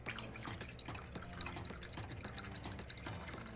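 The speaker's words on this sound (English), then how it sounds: "Rinse out, dry off." A paint brush is swished and rinsed in a water cup during an acrylic sunflower painting, giving a quiet, continuous run of small drips, splashes and sloshing, close up with no talking.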